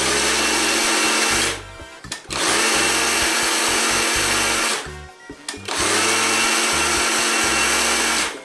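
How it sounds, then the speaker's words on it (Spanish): Food processor grinding peeled shrimp, three loud sustained whirring bursts separated by brief pauses, close and with no talk. "Lo vamos a pasar en el procesador."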